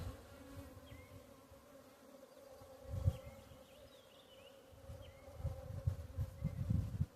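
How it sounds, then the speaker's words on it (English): Honeybees buzz inside an open hive, a dense steady drone with individual bees whining past up close, a few louder bumps and rustles now and then. "I mean, there's a lot of bees in here, people."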